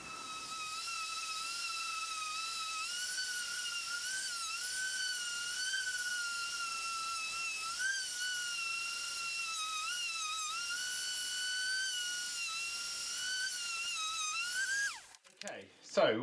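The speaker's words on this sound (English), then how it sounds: "just put it on number 6 and just have another great movement over, give it a little bit more sand and see what it looks like" A DeWalt orbital sander on speed setting 6, sanding with P120 Parkside sandpaper, gives a steady, close, high-pitched whine with a slight wavering in pitch. It runs continuously for about fifteen seconds, then cuts off abruptly with a few clunks.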